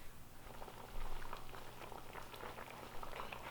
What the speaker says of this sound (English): our curry is coming together. It's definitely going to be simmering the whole time that rice is cooking